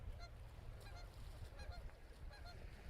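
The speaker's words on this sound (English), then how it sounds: "I hear the geese." Geese honk in a repeated series of calls on a cold morning outdoors, somewhat faint and set against a low rumbling background.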